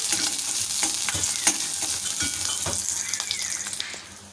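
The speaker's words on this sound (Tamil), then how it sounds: "எண்ணெயிலே வந்து ஒரு ஒரு நிமிஷம் ரெண்டையும் சேர்த்து நல்லா வதக்கிக்கலாம்" Green chilli and ginger sauté in hot oil, a dense continuous sizzle with repeated scraping stirs from a spoon, close and fairly loud, tapering off near the end.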